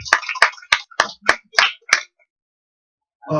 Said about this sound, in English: please give both of them a round of applause